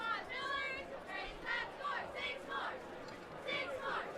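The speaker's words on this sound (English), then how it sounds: "Cheerleaders are cheering for a score." Cheerleaders chant and cheer in the stands at a high school football game, Avon at Noblesville, with a steady crowd roar and rising, rhythmic group voices throughout.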